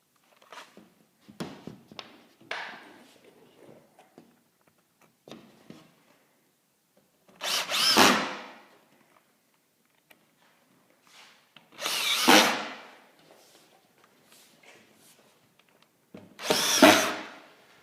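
A screw gun drives screws into a gypsum drywall sheet in three separate short whirring bursts, each rising and stopping, with faint handling clatter and soft knocks between them, close and loud.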